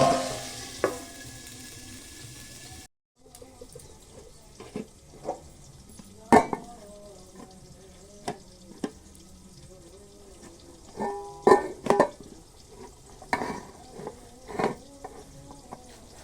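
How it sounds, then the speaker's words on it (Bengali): Cauliflower frying slowly over a low flame in a pan, giving a faint steady sizzle broken by scattered clinks and scraping stirs, with a brief dropout early on and no talking. "ফুলকপিটা সিদ্ধ হবে না তার জন্য আমি আস্তে আস্তে করে ভাজছি"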